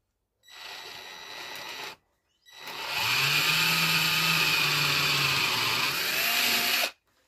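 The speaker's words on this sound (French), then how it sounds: "je vais venir plaquer la chute de la planche dessus et contrepercer les deux trous qui m'intéressent" Power drill boring two holes through a board offcut clamped against a kitchen cabinet panel, a short whirring burst followed by a longer steady drilling run, close and loud with no talking.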